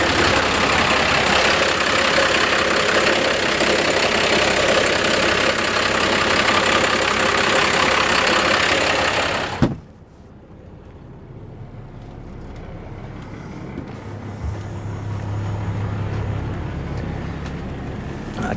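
Diesel engine of a 1994 Rexhall Aerbus 33-foot diesel pusher motorhome idling at the rear under the bed, a loud steady rumble that cuts off abruptly midway, leaving a quiet hum behind.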